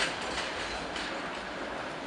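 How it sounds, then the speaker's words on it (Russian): Tram number 28 passing along a street in Odessa: a faint, steady rolling rumble of wheels on rails in the distance, with no voices. "28-й трамвай ходит."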